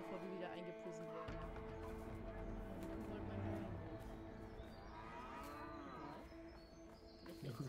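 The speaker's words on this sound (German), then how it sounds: "Die Kuh will mein Heu nicht" Cow mooing on a farm in the video game A Way Out, a long drawn-out low moo rising and falling over several seconds, quiet and mixed with game ambience and talk.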